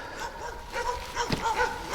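Several dogs at kennel houses in a park bark and yip in quick overlapping bursts, some whimpering tones, moderately close while someone speaks briefly.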